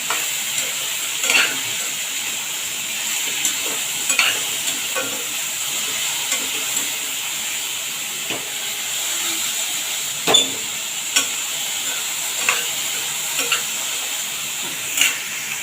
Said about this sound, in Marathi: कढईमध्ये थोडा परतून घेते